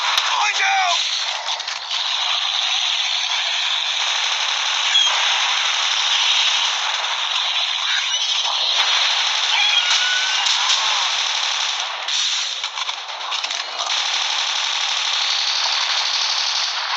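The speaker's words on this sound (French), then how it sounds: "on va prendre le lance-roquette" Rocket launcher fire and gunfire in a zombie-mode video game raid, a loud, dense and continuous barrage of shots and blasts that runs without a break through the whole stretch.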